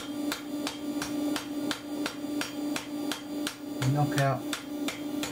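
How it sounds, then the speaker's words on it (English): Pointed hammer, drawn out from a ball-peen, striking hot steel on an anvil while forging a horseshoe toe clip: a steady series of about a dozen sharp ringing blows at a brisk, even rhythm, close up, with brief speech in the middle. "This pointed hammer, which I've made out of a ball pain."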